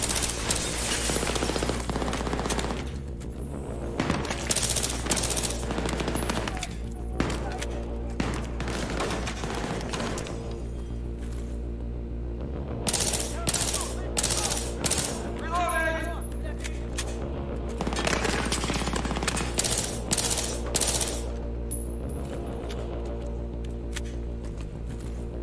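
Dense Battlefield 3 gunfire on Xbox co-op, with rapid bursts of automatic weapon shots and booming impacts running nearly continuously at loud level, overlapping mechanical clatter throughout the firefight.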